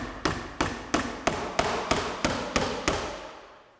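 Nails hammered into the corner end of log siding on a framed wall: nine sharp, evenly spaced hammer strikes ring out in a steady rhythm, close and fairly loud, with no talking.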